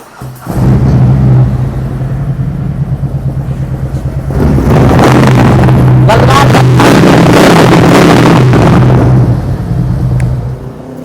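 A 2021 Harley-Davidson Road King Special 114 motorcycle engine running up close, a loud deep rumbling idle that swells into heavier revving in the middle before settling, with wind buffeting the microphone.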